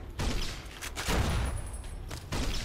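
A KS-23 grenade launcher fires in Fallout New Vegas, a shotgun-like weapon. Three heavy, booming shots come about a second apart, each with a short rumbling tail.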